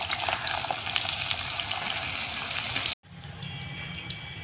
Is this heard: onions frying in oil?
yes